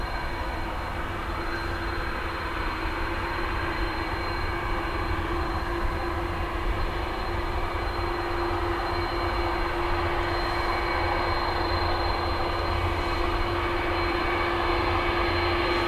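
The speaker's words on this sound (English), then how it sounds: "There's a Emerald ATR about to land" An Emerald Airlines ATR turboprop comes in to land at Dublin Airport, a steady, loud engine drone with a sustained propeller tone that holds evenly throughout.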